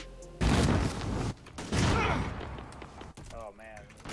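A sudden loud gunshot-like blast strikes in a game-style scene, followed by a second burst and a rumbling decay, with a voice speaking at the end.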